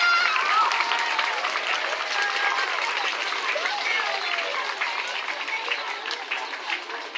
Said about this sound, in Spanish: Les pido a todos un fuerte aplauso para despedir a todas nuestras autoridades.